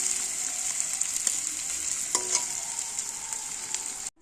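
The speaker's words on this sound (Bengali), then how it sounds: "এই পেঁয়াজ মরিচ দিয়ে আমি কিন্তু ডালটা সম্বাদ দিব" Onion, dried and green chilies and nigella seeds tempering in hot oil for masoor dal, a steady loud sizzle with a few brief stirring clicks, alone, cutting off abruptly at the end.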